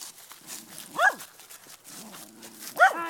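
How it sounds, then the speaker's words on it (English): A dog barks twice indoors, two sharp close barks about two seconds apart, with quiet room noise between them. "Stupid dog, keep barking."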